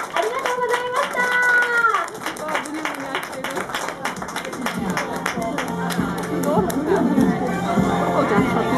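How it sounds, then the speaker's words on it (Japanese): A crowd sees off the mascots Doala, Shaolong and Paolong with applause at a Turfy shrine unveiling ceremony, mixed clapping and lively chatter with voices talking over it, plus a brief tonal sound at the start. "もう一度盛大な拍手でお見送りください。"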